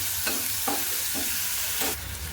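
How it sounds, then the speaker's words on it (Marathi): Ground spice paste sautéing in a pan, a steady sizzle with four rhythmic scraping strokes of a spatula stirring it, close and fairly loud. "ते घ्यायचं थोडंसं आपल्याला परतून घ्यायचं"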